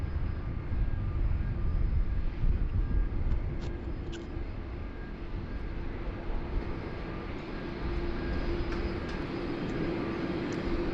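A Qantas airliner bound for Johannesburg taxis at Sydney Airport past cargo bays, its engines a steady broadband rumble with a low hum, continuous and fairly distant throughout.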